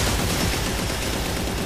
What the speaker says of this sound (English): See, that's where he got sniped out.